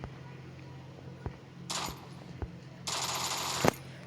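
Shotgun fire in the mobile game Free Fire, heard as a few sharp cracks and two longer blasts of gunfire, fairly quiet and spread across a few seconds.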